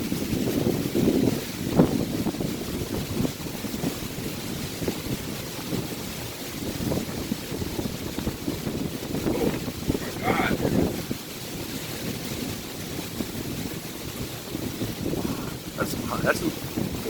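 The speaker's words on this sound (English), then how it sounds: "That's a 40, 50 mile an hour wind, you think?" Strong storm wind of about 40 to 50 mph during a severe thunderstorm, a steady broadband roar buffeting the microphone throughout, with voices talking intermittently over it.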